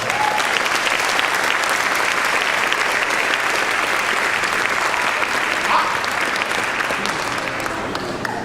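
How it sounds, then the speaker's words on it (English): Sustained audience applause fills a concert hall at a Tuba Bach 2016 tuba band performance, a dense, steady wash of many hands clapping at fairly even loudness throughout. "Give yourself a round of applause."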